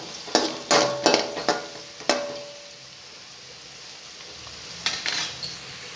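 Onions cook in a pan for spinach biryani with a soft, low sizzle, marked early on by several sharp spatula knocks and scrapes, then a quieter stretch before a few more stirring clatters.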